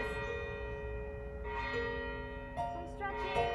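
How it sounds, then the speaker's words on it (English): A church bell tolls outdoors during an open-air choir rehearsal, its sustained ringing tone humming steadily throughout with a few brief louder strikes rising near the middle and end. "The bell tolls."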